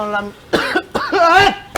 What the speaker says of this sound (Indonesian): Jadi batuk ini.